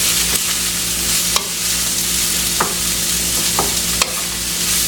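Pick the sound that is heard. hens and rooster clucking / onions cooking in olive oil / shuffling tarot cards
onions cooking in olive oil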